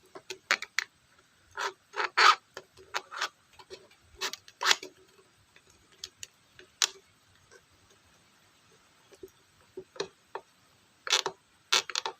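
A plastic bottle being bored with holes to make a fish trap gives a series of short scraping, ticking bursts, some clustered and some isolated, close and quiet, with pauses in between and no talking.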